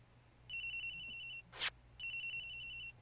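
A phone ringtone in the video game Ace Attorney Investigations: Miles Edgeworth rings in two steady electronic bursts, split by a short sharp noise, with no talking.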